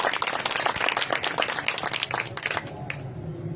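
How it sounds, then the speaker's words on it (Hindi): A church congregation claps loudly and continuously, many hands at once in a dense, close burst of applause that eases slightly toward the end. "जोरदार तालियां मारे।"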